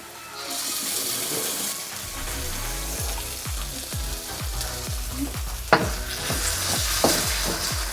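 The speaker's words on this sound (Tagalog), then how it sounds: "After sauteing your onion and garlic, we're going to add the tomato paste." Tomato paste hits sauteed onion and garlic in a hot pan, setting off a loud, steady sizzle with repeated stirring scrapes and a sharp clink partway through.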